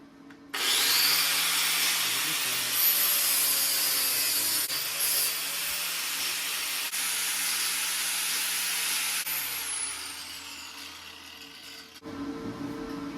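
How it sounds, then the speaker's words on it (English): An angle grinder cutting down a metal reinforcing hoop on a 1979 Honda CB750 cafe racer, a loud continuous high-pitched whine with shifting pitch for about ten seconds before spinning down. "I'm just going to hold this thing while I grind it down"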